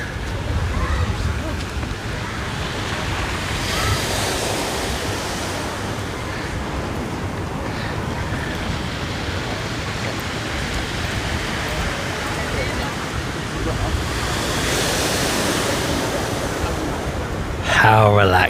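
Sea waves breaking on a beach in Tenerife, a continuous loud wash of surf with swelling surges, heard alone with wind buffeting the microphone.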